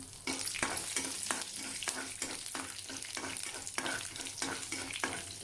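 Garlic with fennel seeds and chana dal frying in two spoons of hot oil for an okra fry, a steady dense sizzle with regular stirring scrapes of a spoon against the pan.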